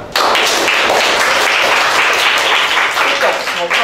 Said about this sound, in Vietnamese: Mọi người cho thầy một tràng vỗ tay được không ạ?